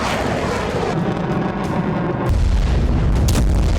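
Heavy explosions from a missile strike on Luhansk, a dense continuous rumble of deep booms that swells louder about midway, with no talk.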